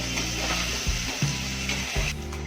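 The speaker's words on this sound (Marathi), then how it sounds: "आई आता फोडणीला देणार फोडणीला द्यायचं आहे" Spices sizzle and crackle in hot oil while being tempered for a home-style chicken curry, a close, continuous frying hiss broken by a few soft stirring knocks.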